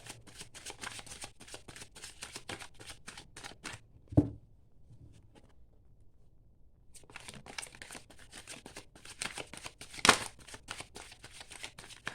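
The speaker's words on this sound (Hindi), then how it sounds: "मेरा ये ऑलमोस्ट शफल हो गया है" A tarot deck is shuffled close up in rapid riffling bursts. The shuffling stops for about three seconds with only a soft tap and near silence, then resumes just as quickly.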